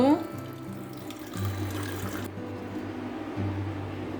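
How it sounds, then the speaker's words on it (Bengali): Hot water poured from a kettle onto two spoonfuls of radhuni seeds in a small bowl, giving a steady close trickle and splash that runs for a few seconds with low kitchen hum underneath. "রাঁধুনিটার মধ্যে আমি গরম জল দিয়ে দেব"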